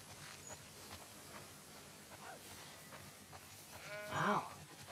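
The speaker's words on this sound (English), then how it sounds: "Wow, that's a lot of sheep." A single wavering sheep bleat on a farm in the video game The Last of Us Part 2 rises near the end over a faint, noisy background, with a few quiet earlier sounds.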